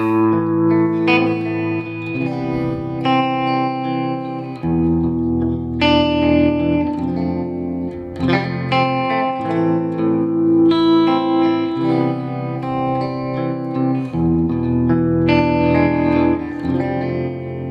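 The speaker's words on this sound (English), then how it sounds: "We just got a little bit of trem, plate reverb, and a compressor." An electric guitar plays chords with a pulsing tremolo, washed in plate reverb and evened out by compression, steady and upfront with no voices.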